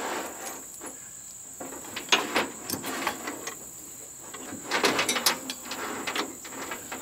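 A ratchet tightens an engine mount bolt on a 1977 Camaro during a motor install. It gives scattered bursts of clicking pawl sounds over faint mechanical background noise in a garage, with no voices.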